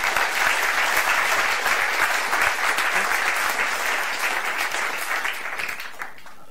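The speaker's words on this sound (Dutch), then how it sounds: "Mag ik voor nu u vragen om een hartelijk applaus voor onze gastspreker van vanavond" An evening audience in a hall gives warm applause for a guest speaker, loud dense clapping that holds steady for about six seconds and then tapers off.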